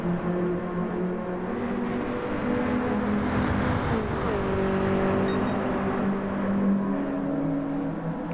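BMW E30 M3 and Subaru race cars dueling for the lead around Suzuka circuit, engines droning steadily and close, with shifting pitch as they jostle through corners, continuous roar throughout.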